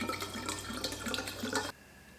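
Tap water runs into a water bottle being refilled at a sink, a steady splashing gush that cuts off abruptly near the end.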